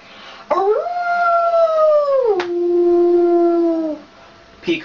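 A person imitates a wolf howling, giving one long, loud, sustained howl that glides downward and then holds a lower tone. The voice is close and nothing else is heard.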